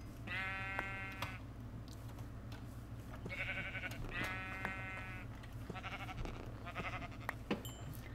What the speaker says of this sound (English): why the heck are there so much sheep?